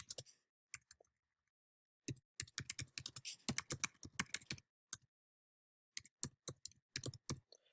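Quiet clicks of a computer keyboard as a command is typed, coming in short bursts of rapid keystrokes separated by pauses, close and alone.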